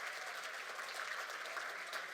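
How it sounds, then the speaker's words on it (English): A seated audience claps hands in continuous, dense applause, steady and fairly close, with no voices standing out during the short burst. "You can clap hands."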